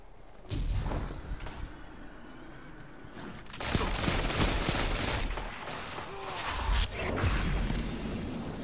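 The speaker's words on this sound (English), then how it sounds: "Yep, I took out the shotgun." Shotgun blasts in Destiny: a few heavy, booming shots with thumps and rushing bursts spread across a noisy firefight, moderately quiet in level.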